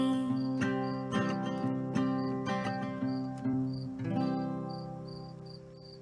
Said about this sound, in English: Got some amazing cricket sounds out here.